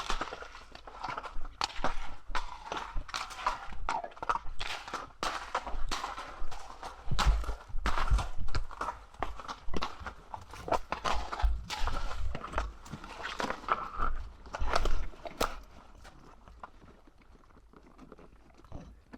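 Steady clip-clop of a horse's hooves walking at an even pace, close by, with faint crunching underfoot.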